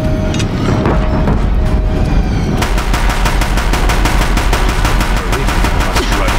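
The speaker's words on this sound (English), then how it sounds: "If the Deathbringers keep firing, this bridge will go." Deathbringer war machines in Horizon Zero Dawn hammer a bridge with sustained, very loud rapid-fire shots, a dense rattling barrage that grows into steady evenly spaced bursts.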